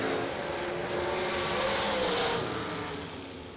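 A Miller-sponsored dragster roars down a drag strip in a sustained, loud, broadband engine blast that builds and then fades slightly toward the end, with no voices over it.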